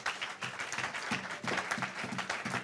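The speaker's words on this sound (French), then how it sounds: "Encore une fois, une acclamation au Seigneur." Church congregation applauding, a lively mix of many hands clapping with some uneven, rhythmic surges and faint background voices mixed in.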